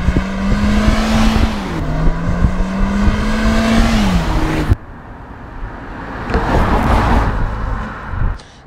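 Kia Forte5 SX engine pulling hard under acceleration with a six-speed manual gearbox, a steady loud drone with rising and falling pitch, then a quieter stretch of road and engine noise after a shift.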